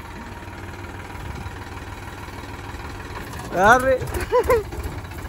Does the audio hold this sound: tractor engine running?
yes